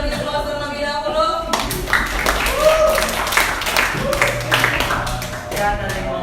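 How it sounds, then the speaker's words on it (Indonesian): Audience applause for a classroom group presentation, steady clapping from many hands with some voices mixed in, fairly close and loud throughout. "Kita beri aplaus terlebih dahulu"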